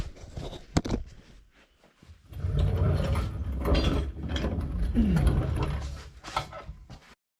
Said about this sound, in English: jack is in place